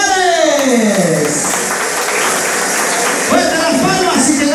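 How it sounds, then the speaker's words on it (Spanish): An award-ceremony audience applauds three men with a broad wash of clapping from the crowd, while a voice talks over it at the start and again near the end. "quiero pedirles un fuerte y caluroso aplauso para los tres señores"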